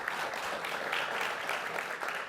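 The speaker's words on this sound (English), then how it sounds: "So Senator Kennedy, let's give him a round of applause." A dense burst of audience applause for a state senator at a New York affordable housing announcement, many hands clapping steadily and fairly close for a couple of seconds.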